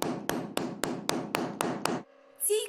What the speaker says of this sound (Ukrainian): і сьогодні з нею знов чути стукіт молота